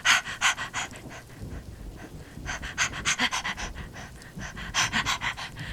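A person imitates a dog's excited play-panting, breathing in quick rhythmic bursts of short huffs, close and fairly loud, repeated in several clusters.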